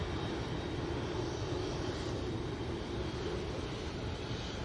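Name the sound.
Singapore Airlines airliner taxiing past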